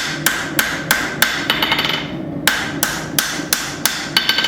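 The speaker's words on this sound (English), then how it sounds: "My lighter finishing hammer." Repeated ringing blows of a light finishing hammer strike steel while forging a knife, in a steady rhythm, close and loud, with a short pause midway before the strikes resume.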